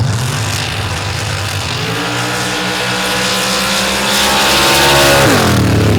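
Roaring engines of MRA Pros and Superstocks drag racing cars at Steelville, a dense, loud, continuous blare that rises and swells toward the end as the cars push to the finish line.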